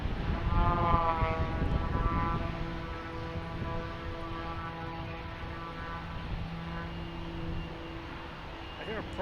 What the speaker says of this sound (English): hear a prop plane somewhere.